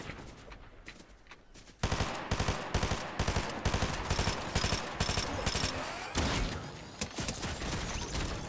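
Rapid sniper and automatic gunfire in the video game Fortnite, dense bursts of loud shots after a quieter opening stretch, continuing almost nonstop with brief gaps, no voices.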